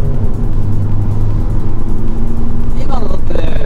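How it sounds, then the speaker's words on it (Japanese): A car engine held at full throttle on a time attack run with a sub-computer fitted, a loud steady drone with low harmonics throughout, and someone talking over it near the end. "全開全開全開。"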